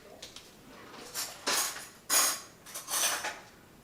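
A fork rattles against dishes and metal cutlery as it is grabbed, several bright clinks and scrapes in quick bursts, close and fairly quiet, with no talking.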